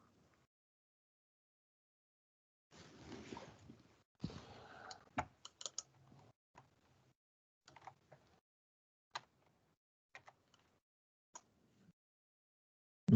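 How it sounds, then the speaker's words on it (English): Typing on a computer keyboard during an online user-group meeting, with a quick burst of soft clicks followed by scattered, sparse keystrokes, faint and close with no talking. "I see lots of typing happening."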